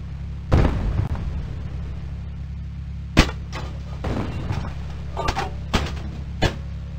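Tank main gun blasts and shell impacts in the Microprose game Across the Rhine: several sharp, separated booms over a constant low engine hum inside the vehicle.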